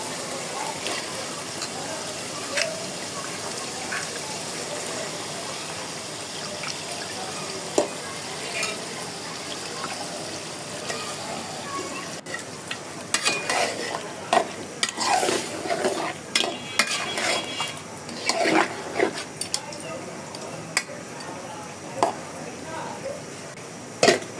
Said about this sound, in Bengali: ভালো করে কষিয়ে এখন মাংসটা দিয়ে দেবো।